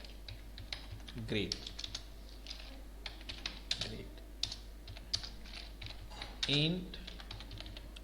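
Computer keyboard keys clatter in quick, uneven bursts of close typing as C++ code is entered, with someone talking intermittently over a steady low hum.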